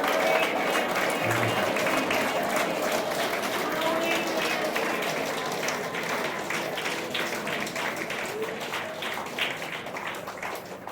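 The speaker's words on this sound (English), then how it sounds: "Clap your hands and praise." Congregation at a healing prayer service clapping hands in praise, a dense, steady wash of applause throughout with voices mixed in.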